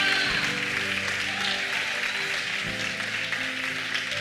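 A church congregation applauds in worship, a fairly soft wash of clapping mixed with sustained organ or keyboard tones underneath, continuing evenly.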